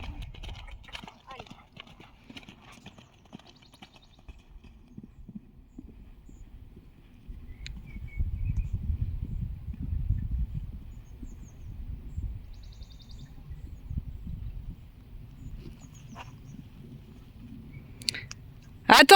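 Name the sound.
horse galloping, hooves clip-clopping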